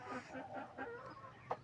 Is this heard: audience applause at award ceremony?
no